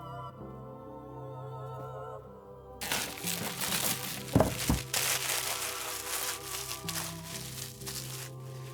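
The cardboard box and plastic wrap of a Return to Dark Tower Covenant board game expansion are torn open by hand without scissors, giving crackling, crinkling and tearing noises with a couple of sharp louder rips near the middle.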